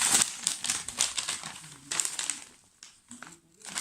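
An envelope is handled by hand, its paper crinkling and rustling in short, close, fairly quiet bursts separated by brief pauses.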